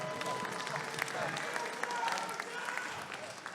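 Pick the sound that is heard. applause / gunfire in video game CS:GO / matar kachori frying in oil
applause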